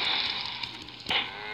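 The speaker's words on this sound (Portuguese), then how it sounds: "Achei um boi." Cattle lowing in a video game, a short drawn-out bleating moo with a second brief cry near the end, alone and fairly close.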